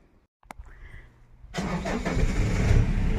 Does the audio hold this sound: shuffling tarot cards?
no